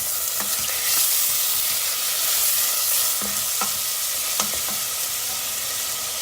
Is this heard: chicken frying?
yes